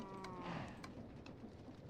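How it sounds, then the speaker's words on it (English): Goofy cows in modded Minecraft give a short, low mooing call, faint and a little distant, over a steady game background with no talk. "the Minecraft cows are goofy"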